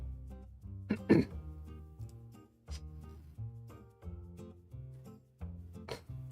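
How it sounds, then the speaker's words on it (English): Repeated harsh coughs and throat clearing in uneven bursts, close and fairly loud, with short pauses between fits. "I'm coughing like crazy, but I'm no longer sick"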